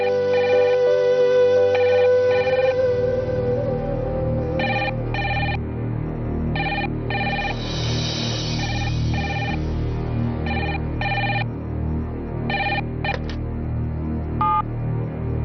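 Telephone ringing indoors, a repeated electronic ring in regular bursts with short gaps, loud and close over a low hum.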